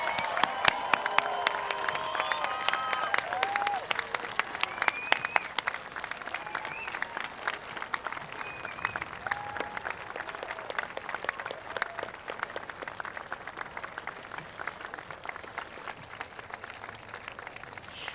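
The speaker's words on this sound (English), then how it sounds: "please join me for a round of applause for Dakota Collegiate's graduating class of" Audience at the Dakota Collegiate convocation applauds the graduating class of 2023, a steady wash of clapping from a large indoor crowd with a few scattered cheers and whistles, sustained throughout.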